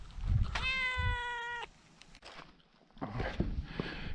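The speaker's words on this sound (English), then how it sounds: "you're a nice cat, aren't you?" A cat at Petra, Jordan gives one drawn-out, clear meow up close, preceded by soft thumps and followed by a quiet pause and faint rustling and movement noises.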